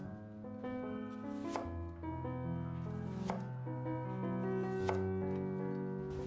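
A knife thinly slicing a shallot on a board for a spicy egg salad: a few sharp, spaced cuts sit over steady background music.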